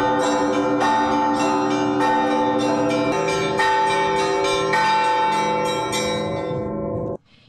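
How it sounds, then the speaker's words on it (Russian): Church bells of the Kazan Cathedral in Stavropol ring out loud and close, several bells striking in repeated overlapping peals with long ringing tones, then stopping suddenly. "святейший патриарх Кирилл осветил колокола Казанского собора"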